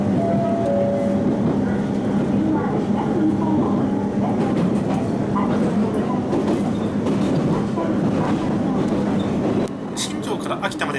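A local train on the Ou Main Line runs between Shinjo and Akita, its steady low rumble and wheel noise filling the cabin throughout, with faint interior sounds above and a slight drop in level near the end.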